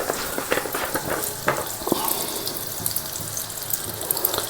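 Ghee and coconut oil heating in a hot pan, a busy crackling sizzle with scattered sharp pops and clicks, close and fairly loud throughout, no talking.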